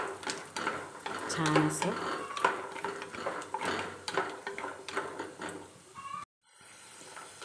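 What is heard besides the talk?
peanuts and coconut roasting in oil in a pan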